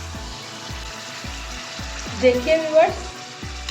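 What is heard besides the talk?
garlic ginger paste frying in oil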